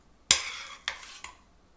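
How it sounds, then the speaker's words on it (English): A spoon scoops cooked carrots and onions from a pan for Greek-style fish, giving three distinct scraping clanks, the first sharpest and loudest, then two softer ones, close up with no talk. "Now we're going to scoop out all the rest of the carrots and onions"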